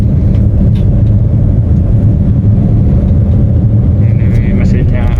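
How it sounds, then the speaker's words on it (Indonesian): Inside the cabin of a 2014 Suzuki Wagon R GS manual with the 1.0-litre K10 three-cylinder engine, a steady, loud, low engine drone and road rumble carry on without a break, with a few faint higher tones near the end. "Untuk suara mesin memang masih masuk kabin ya."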